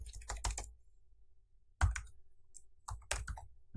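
A computer keyboard is being typed on at close range, with quick bursts of key clicks, a pause, then a heavier keystroke and more clicks. There is no talk.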